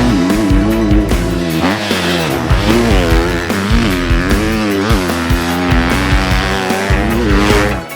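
A 2025 KTM 250SXF motocross bike with a big-bore, short-stroke engine roars loud and close, its pitch rising and falling steadily through gear changes and throttle blips while riding.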